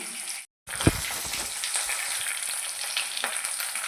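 Seeds, curry leaves, onion and fenugreek frying in oil, a steady sizzle after a short cut of silence, with a few knocks and stirs of a spoon in the pan.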